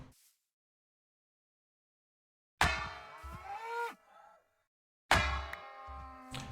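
Two drawn-out cow moos from the video game Minecraft, each a loud tonal low call lasting over a second, separated by a stretch of silence.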